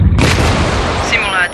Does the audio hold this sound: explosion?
yes